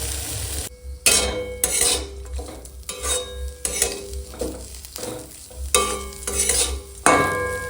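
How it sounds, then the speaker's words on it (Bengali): Potatoes fry with drumstick flowers and a dry red chilli tempering in a home kitchen pan, stirred in repeated scraping strokes over a steady close sizzle, with a spatula clattering against the metal. "এইভাবেই নেড়ে নেড়ে রান্না করে নেবো"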